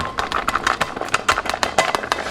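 Beef sizzles in a pan with a steady, close crackle and spatter, broken by quick irregular pops throughout.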